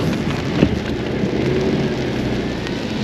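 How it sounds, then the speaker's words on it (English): Heavy rain pours steadily over a residential area near a cell phone tower and power lines in Spring Hill, Florida, as a dense, continuous hiss with a single sharp close drip, with no talking. "Boy, is it raining hard."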